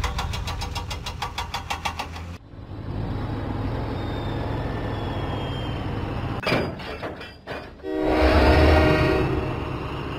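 Diesel engine rumbling along the track in a Thomas & Friends video game, a steady mechanical drone with rhythmic pulses at the start and a brief horn-like burst near the end, alone without talk.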